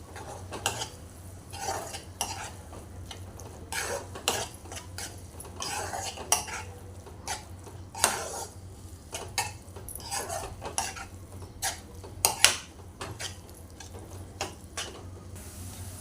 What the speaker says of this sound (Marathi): आता छान एकत्र करून घेऊया आपण हे मसाले